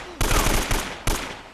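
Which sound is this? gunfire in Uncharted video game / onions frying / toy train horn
gunfire in Uncharted video game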